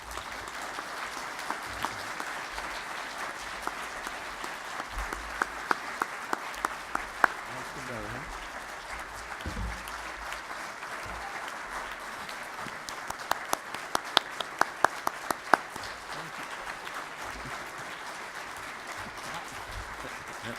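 An audience at a university honors commencement ceremony claps steadily for the whole stretch, a dense, moderately distant wash of applause with a few sharper hand claps standing out.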